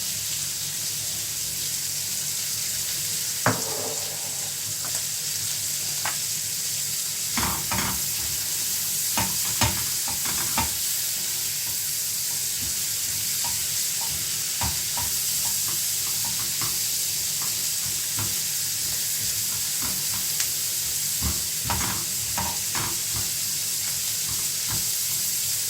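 Onion sizzles steadily in a pan, with the scrape and clatter of a utensil stirring it at irregular intervals, close and continuous throughout.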